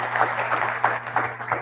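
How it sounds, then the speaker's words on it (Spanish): Moderate applause from the audience at an international psychology congress lecture, steady clapping with soft rhythmic peaks, fairly close and without speech over it. "Aplausos para la señorita."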